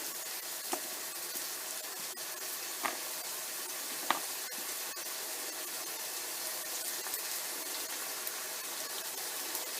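Beef mince with a crumbled beef stock cube fries in a pan for spaghetti bolognese, a quiet steady sizzle with a few soft clicks of stirring.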